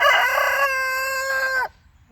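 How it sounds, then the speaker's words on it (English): A Colombian Rock rooster lets out one loud, clear crow close by, a strained opening followed by a long sustained note that cuts off sharply, leaving near silence. "we're probably gonna keep him for a very long time because he's a very good rooster"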